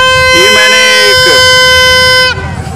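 A toy horn bought for children at a Dussehra fair is blown up close in one loud, buzzy, sustained honk that wavers slightly in pitch for about two seconds, then cuts off abruptly.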